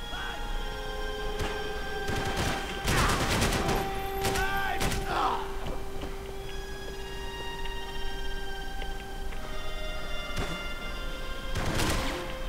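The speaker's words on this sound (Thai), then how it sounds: "ต้องยิงทีละนัดยิงรัวไม่ได" Gunfire in the shooter Max Payne 3, with loud bursts of shots in clusters separated by quieter stretches, and a steady tone running under the action.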